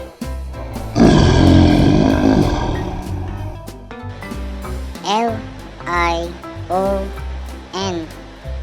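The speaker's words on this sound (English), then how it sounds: "LION." Loud lion roar rising into a long growling bellow, followed by a series of shorter grunting roars that taper off, heard alone and close.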